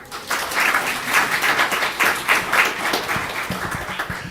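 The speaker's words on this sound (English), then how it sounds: "Please give them another round of applause." An audience at a school district board meeting gives visual arts students a round of applause. Dense, even clapping swells in small pulses for about four seconds, with little talk.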